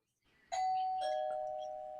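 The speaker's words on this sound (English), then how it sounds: "There's our doorbell." A household doorbell chimes with two clear, ringing tones, the second following about half a second after the first, both lingering and slowly fading in a quiet room.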